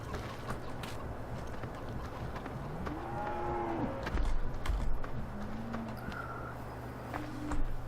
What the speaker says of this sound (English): There's one of our cows, and there is the other.